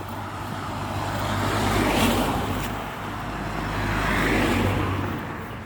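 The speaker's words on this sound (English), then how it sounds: "More cars." Cars pass along a road near a railway line, two broad whooshing swells rising and fading over steady low traffic rumble, with no one talking.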